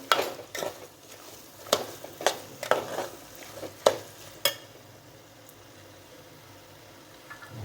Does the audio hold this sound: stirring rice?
yes